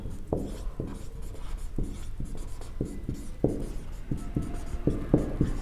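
Chalk or marker tapping and scraping on a board in short, irregular strokes, repeated steadily and close by, with no talking over it.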